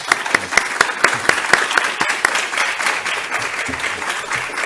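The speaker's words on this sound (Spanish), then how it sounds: "pedirles un aplauso para los ponentes" An audience at a study conference on India applauds the speakers, with distinct close claps standing out over a steady bed of clapping throughout.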